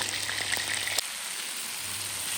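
Meat frying at high heat in a pan, a close, steady hiss and crackle of sizzling fat with a few pops, continuing alone with no talk.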